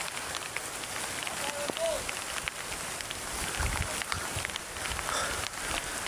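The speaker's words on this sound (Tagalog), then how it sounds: "Sobrang lakas ng ulan ngayon mga idol." Heavy rain pours steadily outdoors with a dense, continuous hiss and patter, and a few brief voice-like sounds rise over it.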